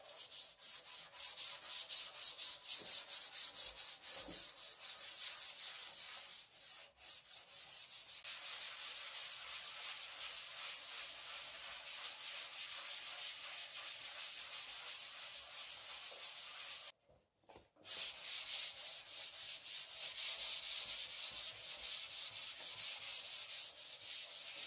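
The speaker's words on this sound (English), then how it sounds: "15 minutes of sanding extra to get rid of some paint defects" Sanding a Mustang fender to take out paint defects, a continuous close, hissing, rasping rub that runs steadily for over twenty seconds, cut by one brief pause partway through, with no talking.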